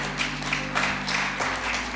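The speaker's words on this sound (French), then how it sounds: "Tu peux applaudir." A church congregation claps together during a sermon, a soft, steady run of rhythmic claps over a low electrical hum in the room.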